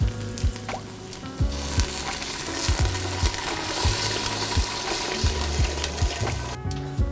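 Vegetables and onions for a cioppino seafood stew sauté in a hot pan with a bright, steady sizzle, and a spoon scrapes and taps repeatedly as it stirs, close and continuous, with no talk.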